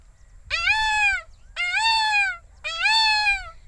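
Three drawn-out, high wailing calls from a human voice mimicking a peacock, loud and close, each lasting under a second with short pauses between.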